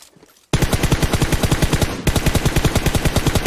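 Rapid automatic gunfire bursts loud and close after a brief quiet start, with a short break in the middle, typical of a shooter game.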